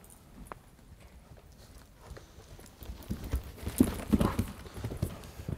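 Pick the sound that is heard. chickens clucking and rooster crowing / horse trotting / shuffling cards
horse trotting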